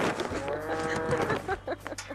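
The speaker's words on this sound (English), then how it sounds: "it's time to feed the cows" Cattle on a Central Florida farm at feeding time low and moo amid a busy, noisy background, the calls blending with nearby voices and movement.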